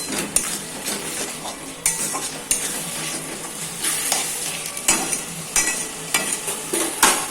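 Spices with turmeric are stirred and fried in a pan for chicken gravy: a close sizzle broken by frequent loud metallic scrapes and clatters of a spoon against the pan in an uneven rhythm.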